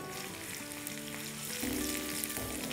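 Garlic and large pieces of green chili frying in oil over a low flame, a steady close sizzle with a faint hiss that holds through the whole stretch.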